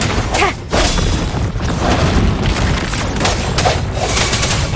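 Grenade explosions and rapid gunfire from the video game Wuthering Waves form a dense, continuous roar of booms and bursts of shots, loud and close throughout with no gaps.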